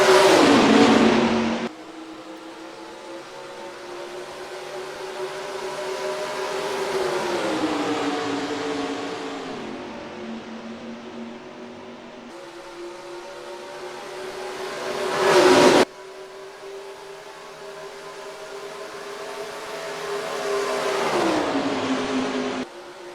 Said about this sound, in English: We're green flag racing in the IROC Series at Texas.